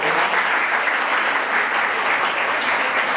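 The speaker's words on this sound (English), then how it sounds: "A huge round of applause for all of them" Audience at a school Constitution anniversary program breaking into sustained applause, a loud, dense, even roar of many hands clapping together for the whole stretch.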